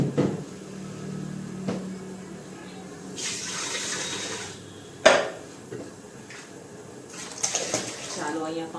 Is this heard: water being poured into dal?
yes